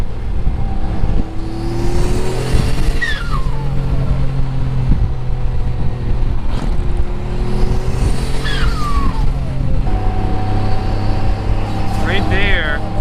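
A fully built Mitsubishi 3000GT engine pulls smoothly and loudly from inside the car, rising and falling through gears with steady harmonic tones, and speech is faint under the engine.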